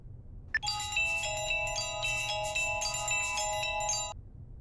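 A phone ringtone plays a repeating electronic melody for about four seconds, clear and close, over a faint low background hum.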